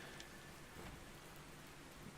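Steady, dense patter of rain falls without a break in the game Ark Survival Ascended, a soft, even hiss with a faint low rumble underneath and no voices.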